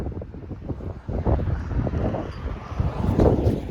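Gusty wind buffets the microphone outdoors during a wind storm, a rough low roar that swells and surges unevenly over a few seconds with no voices.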